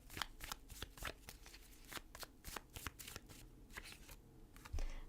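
Tarot cards are shuffled and drawn by hand for a Leo reading, a continuous run of crisp riffling snaps and soft slides, close and fairly quiet, with a slightly louder card flick near the end.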